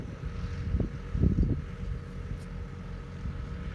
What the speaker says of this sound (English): So it's very, very windy